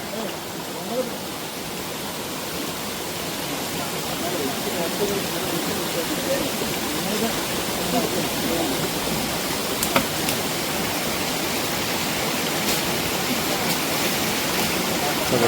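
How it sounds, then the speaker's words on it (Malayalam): A small forest stream flows in a hidden spot in Palakkad, a steady broadband rush of water that holds an even level throughout, with a few faint clicks near the end. "അപ്പോൾ ഇവിടെ അങ്ങനെ ഒരു ചെറിയൊരു അരുവി ഉണ്ട് കേട്ടോ."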